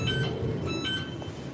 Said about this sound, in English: the cheap alarm.